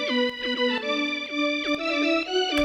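An organ-like Future Bass synth preset built in Serum sustains rich harmonic chords with gliding pitch bends between notes, loud and steady, with soft percussive ticks underneath and no voices.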